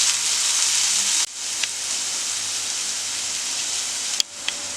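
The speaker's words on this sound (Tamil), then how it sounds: "இப்போ இதில் வந்து ஒரு வெங்காயம் சாப் பண்ணி போட்டுக்கலாம்" Chopped onion and salt fry in a pan for a mushroom Manchurian, a constant hissing sizzle that drops away briefly twice, with small clicks from stirring.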